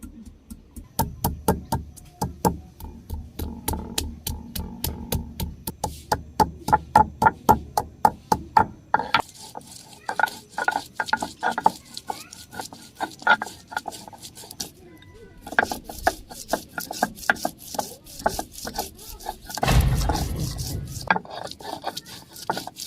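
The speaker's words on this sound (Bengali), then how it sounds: "এই যে প্রথমে আমি আদা বেটে নিই।" Ginger ground on a traditional grinding stone in a Bangladeshi village kitchen, a close, steady run of rhythmic scraping and knocking strokes that speeds into a dense rasping grind, with a brief faint voice.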